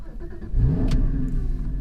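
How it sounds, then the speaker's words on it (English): A Porsche Cayman 981 GT4 engine cranks and catches into life, a brief starter whir followed by a rising rev that settles into a steady idle, close and fairly quiet. "there we are, the car is into life"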